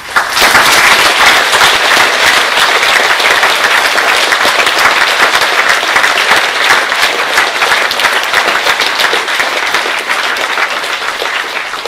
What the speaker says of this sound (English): Please join me in a round of applause for all the support staff.